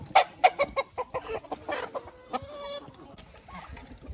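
Farmyard chickens clucking and squawking in a quick burst of loud calls that settles into softer, scattered clucks, with no talk.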